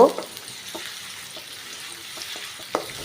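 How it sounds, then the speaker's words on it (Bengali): Onion goes into hot oil for a cabbage and chicken curry, giving a faint, low crackling sizzle with a few soft pops. "আমার পেঁয়াজ ইয়া তেলটা গরম হয়ে গেছে তো এখানে আমি দিয়ে দিব পেঁয়াজটা"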